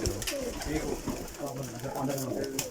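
High-flying pigeons in a breeding loft coo in a continuous low rolling chorus, close and fairly loud, with voices faint underneath.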